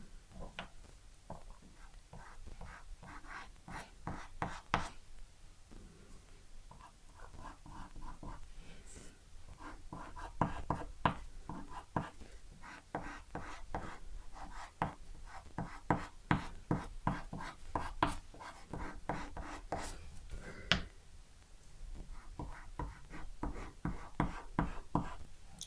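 Light sketch marks made with dry pastel on pastel paper, a quick series of soft scratchy strokes pressed gently, close up and fairly quiet, with short pauses between bursts of marks.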